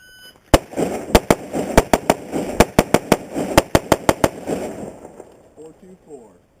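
Rapid, sharp carbine rifle shots ring out on a shooting range, about fifteen cracks in quick uneven succession over several seconds, loud and close, with a muffled voice speaking briefly as the firing ends.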